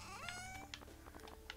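A house cat meows close by, with a few short rising calls over steady low background hum.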